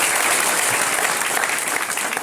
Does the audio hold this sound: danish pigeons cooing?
no